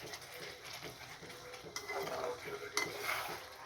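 New potato curry (aloo dum) stirred in a pan on a winter night, with spoon scrapes and clinks against the metal over a low sizzle, a couple of sharper knocks standing out.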